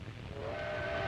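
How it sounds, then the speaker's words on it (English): A train rattles across desolate country with a steady rumble of wheels, and a whistle tone rises over it partway through. "The train rattles across desolate country the Italians will have to fight across."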